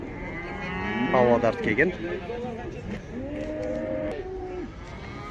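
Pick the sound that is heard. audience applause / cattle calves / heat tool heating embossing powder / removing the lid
cattle calves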